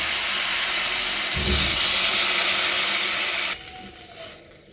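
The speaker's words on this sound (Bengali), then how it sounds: "এবার আমি এর মধ্যে দিয়ে দেবো পরিমাণ মতো জল।" Water poured into a hot pan of frying bottle gourd and fish, a loud bright hiss and steamy sizzle that swells for a few seconds, then cuts off abruptly into quieter bubbling.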